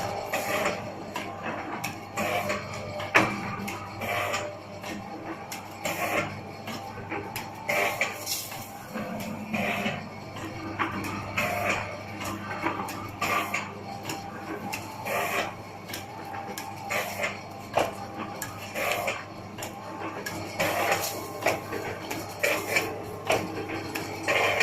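An automatic Model 505 four-side-seal fresh juice packaging machine runs with material loaded, giving a steady mechanical clatter of repeated ticks, clicks and metallic knocks over a constant hum, with no talk.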